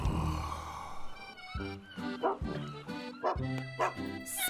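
A dog barks repeatedly at close range, several sharp, loud barks in an uneven rhythm over a noisy background.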